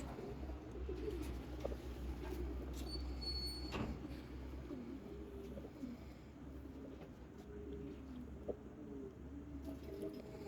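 Low, soft pigeon cooing runs steadily throughout, a few birds murmuring close by in a quiet space with faint background chirps.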